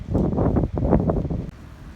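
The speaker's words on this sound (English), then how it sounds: "And very windy." Gusty wind buffets the microphone in uneven, rumbling bursts, loud at first and then easing off.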